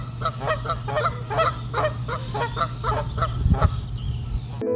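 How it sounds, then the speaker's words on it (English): Canada geese honk repeatedly in sunshine near a museum in Eindhoven, Netherlands, a flock giving loud, rhythmic nasal calls about two to three per second, close by, over a low steady hum. "Geese often honk when they sense a potential threat."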